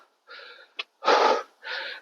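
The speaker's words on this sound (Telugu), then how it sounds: "బీభత్సంగా ఆయాసం వచ్చేస్తుంది." A trekker climbing the path to Muktinath in Nepal pants heavily from breathlessness, with loud ragged breaths and a short gasp in close, uneven bursts.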